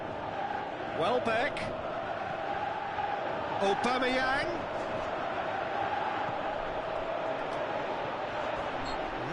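A steady crowd roar fills a stadium in a PES football video game, swelling slightly with the play, while a commentator calls out player names over it.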